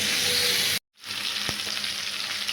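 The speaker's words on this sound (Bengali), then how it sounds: "আলু দিয়ে নাড়ছি প্রথমে।" Potatoes sizzle and fry in a pan for a Bengali mixed vegetable curry, a steady hiss broken by a brief silent gap and a single knock of stirring.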